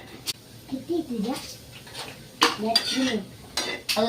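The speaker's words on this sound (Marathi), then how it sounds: "आता मी अगोदर कांदा टाकून घेते तव्यावर" Sliced onions are tipped onto a hot griddle to roast for a chicken curry masala, heard as clattering spatula scrapes and metallic clinks against the pan. Someone talks throughout.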